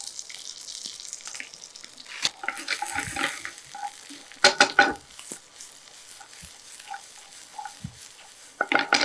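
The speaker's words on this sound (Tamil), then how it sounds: "3லேருந்து 4 நிமிஷம் லோ ஃப்ளேமில் அப்படியே வதக்கி எடுத்துக்கலாம்" Onions, dried chillies and curry leaves sizzle softly in a pan over low flame, with scattered clinks and scraping of a spatula stirring, quiet between bursts.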